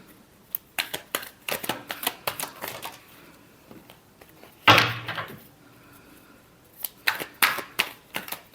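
Tarot cards being shuffled in a final shuffle, a run of quick papery riffles and taps at close range with one louder burst midway, uneven in rhythm and without talk.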